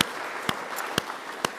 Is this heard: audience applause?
yes